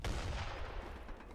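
Mortar and heavy cannon fire in the real-time strategy game Age of Empires III, a dense, rumbling burst of booming blasts layered over a continuous low roar, loud and without voices.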